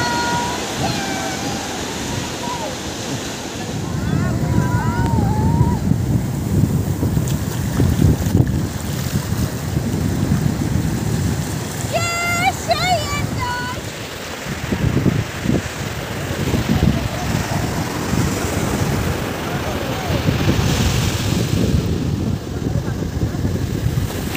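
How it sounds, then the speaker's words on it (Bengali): Sea waves roll and break on the open beach at Dublagadi, a steady broad wash of surf with strong wind buffeting the microphone, while people talk nearby at intervals. "দেখতে হচ্ছে প্রচুর ঢেউ"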